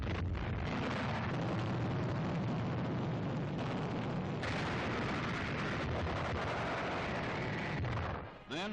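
Wartime bombing and mortar fire from a 1945 newsreel of river fighting near a bridge: a continuous loud, dense roar of blasts and gunfire that runs with little pause, easing off only briefly at the very end.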